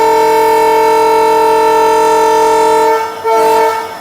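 Diesel locomotive of a Vistadome train through the Sakleshpur ghats sounding its horn, a loud, close, sustained multi-tone blast that cuts off briefly near the end before a short second burst.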